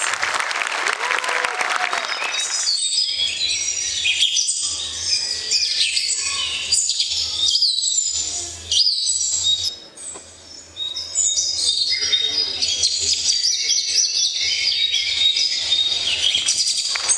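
Chirping and tweeting birdlike calls in a children's jungle-themed stage performance, a busy continuous chatter that follows a burst of applause, with a faint low hum underneath and a brief dip near the middle.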